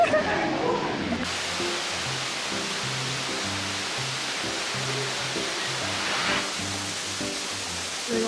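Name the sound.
indoor waterfall inside a hotel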